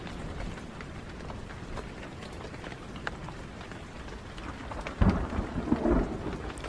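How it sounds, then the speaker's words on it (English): Constant rain hisses in the horror game Blair Witch while thunder rolls and then cracks louder near the end, a dense wet ambient wash. "The thunder is going from left to right. The rain."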